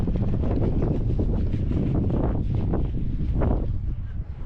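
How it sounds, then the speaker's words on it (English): Strong wind buffets steadily and loudly, roaring across the whole stretch with gusty surges and no pauses, kicking up sand beside the Great Pyramid at Giza. "super windy today."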